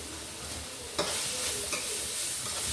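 Curry leaves hit hot oil in a pan of beef curry and crackle into a bright sizzle, followed by spoon-stirring scrapes, close and clear with no talking.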